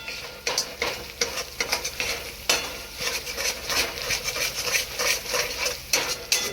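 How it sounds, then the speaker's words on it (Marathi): Spoon stirring and roasting chilli powder in a hot pan, a steady close scrape with a continuous dry sizzle and irregular clinks, no talking. "पावडर व्यवस्थित भाजून घ्यायचं आहे."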